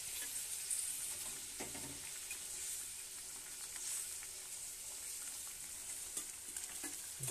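Fish pieces dropped into a boiling mustard curry, with a steady broadband sizzle and bubbling throughout and a few soft splashes and clinks as the pieces go in, close and fairly quiet, no talking.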